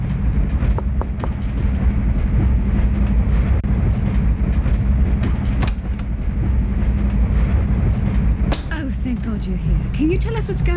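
A moving train in the 1997 DOS game The Last Express rumbles steadily on its rails, with a dense low rolling roar and faint rhythmic clatter throughout, and sharper squeals near the end.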